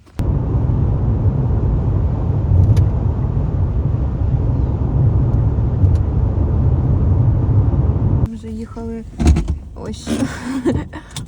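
Inside a car on the way to a cherry farm, a steady loud road and engine drone fills most of the stretch, then drops away to quieter clunks and brief voices near the end.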